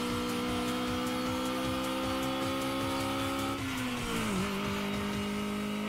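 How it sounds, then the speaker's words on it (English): A racing game car engine drones at high, steady revs with a rapid stuttering pulse as it bounces off the limiter, then the pitch dips and recovers; loud and continuous throughout. "Was I hitting my rev limiter there?"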